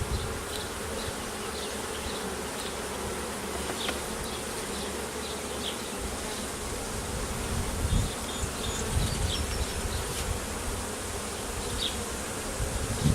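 Honey bees buzz steadily and close during an inspection of a queenless hive, a continuous dense drone with no talk over it.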